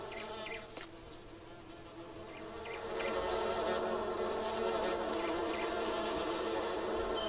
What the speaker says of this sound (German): Die Bienen wollen raus.